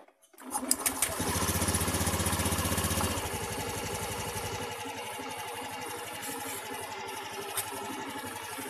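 A Honda Beat fuel-injected scooter engine starts and settles into a steady idle, its even mechanical chatter close and fairly loud, with the low rumble easing down after a few seconds.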